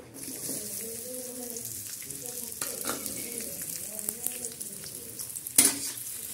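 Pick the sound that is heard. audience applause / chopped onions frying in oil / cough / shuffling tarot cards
chopped onions frying in oil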